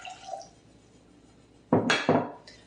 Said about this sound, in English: we're going to add the 1 1/4 cups of water